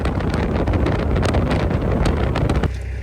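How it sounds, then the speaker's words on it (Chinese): Strong wind sweeps across the salt lake in Ethiopia's Danakil Depression, roaring and buffeting loudly against the microphone in continuous gusts before cutting off near the end, with no talking. "现在盐湖上的风很大"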